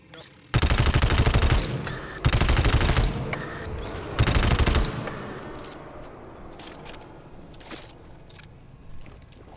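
Video game gunfire in three loud sustained bursts of rapid automatic shots separated by short gaps, the last trailing off into quieter scattered sounds with no talking.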